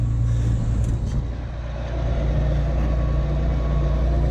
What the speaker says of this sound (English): he's finally driving it around to where he wants to park it